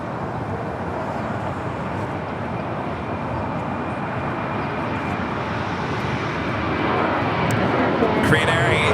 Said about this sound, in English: All Nippon Airways flight 126 coming in from Tokyo Haneda, 787-8 Dreamliner is the next arrival on 24 left